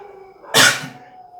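A dog lets out one sharp, loud bark at close range, cutting through an otherwise quiet room with a faint steady hum.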